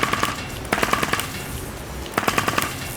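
Rapid bursts of gunfire from a VR shooter game played with a Provolver gunstock, two loud clusters of quick shots separated by a short pause, close and alone without talk.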